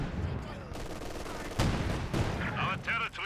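An anti-tank gun in the Company of Heroes 2 video game fires a couple of sharp, booming shots among ongoing battle rumble and distant gunfire, loud and close.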